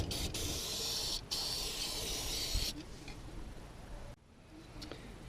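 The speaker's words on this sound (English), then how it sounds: "Just spray everything down front and back with brake cleaner." Brake cleaner sprays in bursts onto the rear brakes of a 2000 Chevy Suburban, a harsh close hiss that runs for a few seconds, pauses briefly, then resumes before fading to quieter intermittent spritzes.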